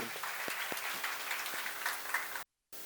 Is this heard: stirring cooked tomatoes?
no